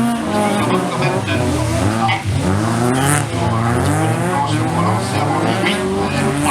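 Race cars at a French Cup autocross event in Laon, engines roaring and tires skidding continuously at close range, with a commentator's voice running underneath.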